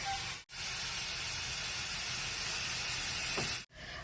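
Grated radish frying in a pan with turmeric gives off a loud, steady hiss and sizzle, constant and close, broken by two brief silent cuts.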